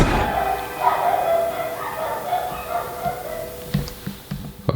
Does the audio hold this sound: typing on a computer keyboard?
no